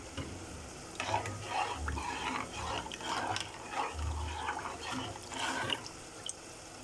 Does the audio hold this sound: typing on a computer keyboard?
no